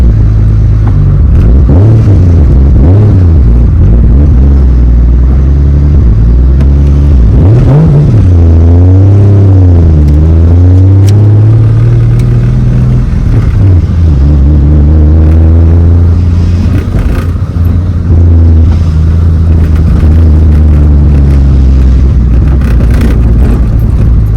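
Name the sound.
BMW E36 M3 driving on test drive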